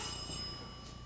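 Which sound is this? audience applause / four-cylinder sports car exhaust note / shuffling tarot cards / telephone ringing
telephone ringing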